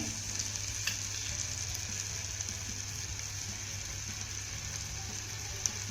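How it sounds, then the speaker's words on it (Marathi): Thalipeeth, a flatbread, fries in oil in a hole pan, giving a continuous close, even sizzle with occasional small pops and no talking. "ह्या होलमध्ये आपल्याला थोडं थोडंसं तेल टाकून घ्यायचं आहे"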